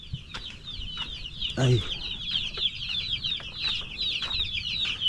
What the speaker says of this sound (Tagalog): So pakakainin na natin yung mga sisiw.